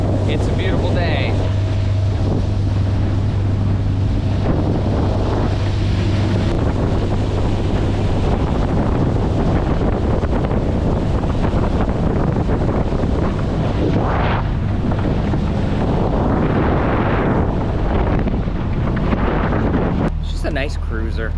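A 1977 17-foot J-Craft motorboat cruises on open water, its engine droning steadily under loud wind buffeting the microphone and the wash of water against the hull.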